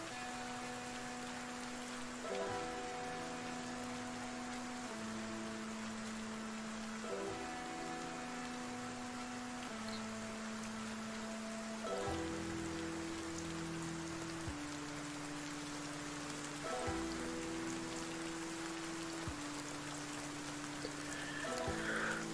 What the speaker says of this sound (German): Durch den Kackregen sehe ich nicht so viel. Ja, Wettereffekt.